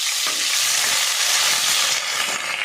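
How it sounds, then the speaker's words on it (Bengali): Chopped onions frying in oil for mutton kosha, a dense, continuous sizzle filling the clip, loud and close with no talk. "দেখো পেঁয়াজটা ভাজা হয়ে গেছে"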